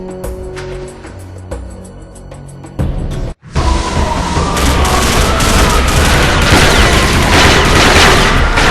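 Loud, dense unsilenced gunfire erupts in a Combat Arms firefight, sharp scattered shots giving way to a sustained rattling barrage with booming impacts after a brief drop to silence, no talk over it.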